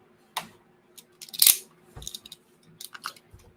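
Scissors snip through a sealed foil trading card pack at a group card break, a few crisp cuts and crinkles with one louder rip of wrapper in the middle, close and alone without talk.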